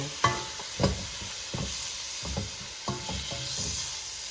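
Cabbage and collard greens frying in canola oil in a pan, a soft steady sizzle broken by a series of sharp stirring clacks and scrapes at irregular intervals, close and moderately quiet.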